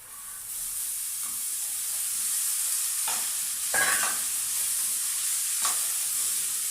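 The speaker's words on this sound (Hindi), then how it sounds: "अभी यहाँ पर प्याज भुन गई है, मैं डाल दूंगी इसमें ये चने।" Chickpeas being stirred into sautéed onions in a hot pan, giving a steady sizzling fry with bursts of louder spoon-scraping stirs, close and continuous with no talking.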